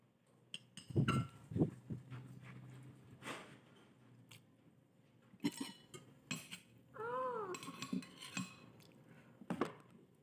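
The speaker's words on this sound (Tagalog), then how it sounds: "Ganito naamoy ng pusa ang isda. Miyaw ng miyaw." A cat meows once in a short, drawn-out call near a meal of paksiw na tilapia, fish stewed in vinegar. Scattered clinks of dishes and cutlery and soft chewing sounds come before and after the call.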